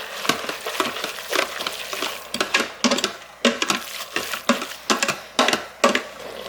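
Beef with four to six cloves of minced garlic and peppers stirred in a pot for taco soup, giving a steady low sizzle broken by repeated scraping strokes of a utensil, fairly close and moderately loud, with no talking.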